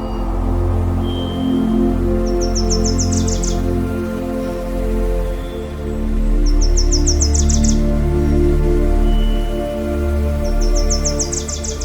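Weaver birds give three short, bright chattering bursts at regular intervals in the African savanna in the dry season, faint over a steady low hum of background noise.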